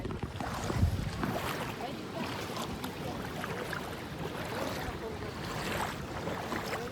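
A kayak glides through knee-deep shallow water along a Konkan coast at sunset, with a soft continuous wash of water and paddle splashes, wind noise running steadily throughout.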